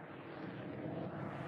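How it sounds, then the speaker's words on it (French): Military airplane flying over a rural zone, one of repeated passes every minute, a broad steady engine roar at moderate distance that holds throughout without voices. "Ce matin-là, depuis 8 heures, un avion survole la zone toutes les minutes."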